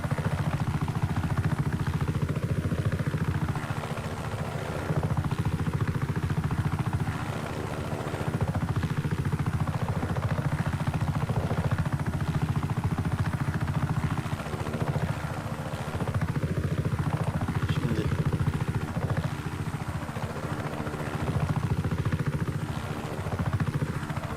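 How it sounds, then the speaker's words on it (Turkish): A helicopter in Just Cause 3 drones loudly and continuously with a steady rotor thrum and repeated rising and falling engine whines, close and alone. "Bu helikopter."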